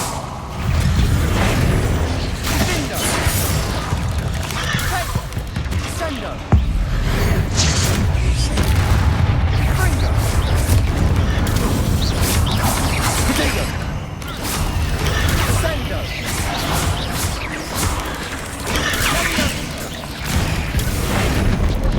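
Repeated Incendio fire-spell blasts in Hogwarts Legacy on Hard difficulty, loud booming bursts with whooshes over a constant dense combat din, filling the whole stretch with a voice briefly heard.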